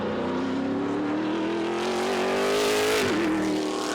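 A Trans Am race car on Pirelli P0 tires screams around the Portland circuit, its engine pitch holding steady then climbing before a sharp drop as it lifts for braking, loud and close, with no voices.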